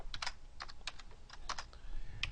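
Fingers typing on a computer keyboard, a short run of quick, uneven clicks close by, with no voice.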